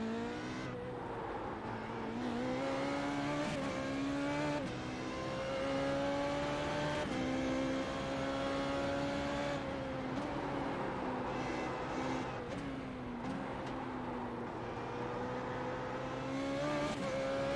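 An F3.5 race car in a racing video game, its engine whining steadily and climbing through gears with shifts and brief lifts, loud and continuous, with tyre noise underneath.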